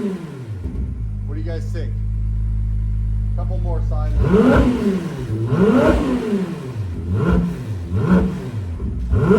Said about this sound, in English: Do you like the 296 sound?